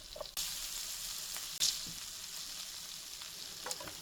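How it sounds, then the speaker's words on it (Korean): Butter melts and sizzles in a pan for beef sirloin steak, giving a steady close frying hiss with a louder crackling burst partway through and a few soft utensil clicks. "이제 버터를 충분히 녹여주시고"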